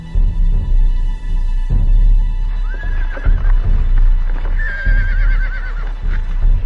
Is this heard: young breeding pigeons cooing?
no